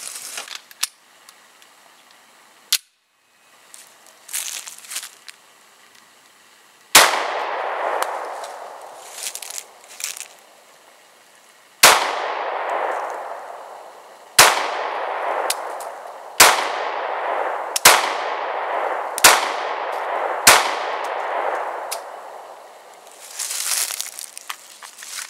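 A Walther PPS compact pistol fires single shots outdoors, about nine sharp loud cracks each trailing into a short echo, spaced irregularly after some quieter handling clicks at the start.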